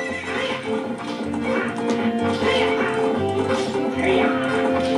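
Video game horses in Ocarina of Time neigh and whinny repeatedly over rhythmic galloping hoofbeats during a horse race, loud and close with steady clip-clop throughout.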